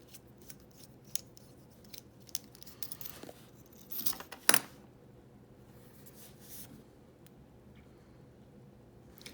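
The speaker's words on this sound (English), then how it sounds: "We'll open the pen up." An Ohto Promecha mechanical pencil, model NBP-507R, is opened up, with faint scattered clicks and small plastic-and-metal ticks and a sharper pair of clicks near the middle, close and quiet.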